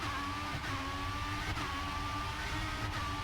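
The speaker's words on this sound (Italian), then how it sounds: "Rombo del motore." Formula 1 race car engine from F1 2016 at Budapest, a sustained high-pitched whine and roar with brief dips roughly every second as gears shift, close and steady.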